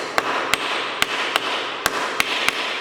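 A wooden hammer strikes a sheet metal workpiece in a workshop, seven sharp, distinct taps at uneven intervals over a steady background hiss.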